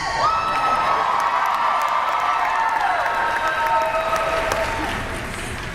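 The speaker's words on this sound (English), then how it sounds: "Let's give all of our Sailor Guardians a big round of applause!" A large crowd at an anime convention's Sailor Moon panel claps and cheers, with whoops and shouts riding over sustained, loud applause that tapers slightly near the end.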